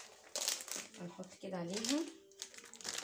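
A plastic packet of whipping cream crinkled by hand in a home kitchen, with short bursts of rustling in between someone speaking close to the microphone.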